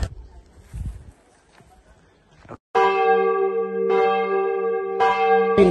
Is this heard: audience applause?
no